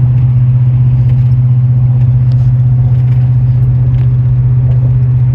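Steady loud low drone of a 6.6L GMC 3500 pickup towing a Big Horn fifth-wheel trailer at highway speed, engine and road rumble constant throughout with faint rattles on top and no talking.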